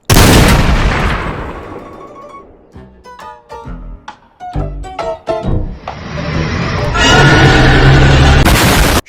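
An AI-generated shotgun firing slugs gives a burst of loud, booming shots: a heavy blast opens, a rapid cluster of sharp reports follows, then more sustained roaring explosions close out.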